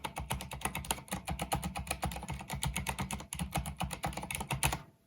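Fast, steady typing on a keyboard with Cherry MX Silent switches gives a close run of soft, muted key clicks with a quick, even rhythm.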